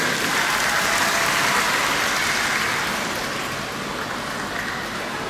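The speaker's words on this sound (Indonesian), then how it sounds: "Sekali lagi tepuk tangan buat TLM Indonesia ini." Audience applause at a cooperative's annual members' meeting in NTT, Indonesia, honoring TLM Indonesia: a dense, steady wash of many hands clapping, loud and continuous, easing slightly toward the end.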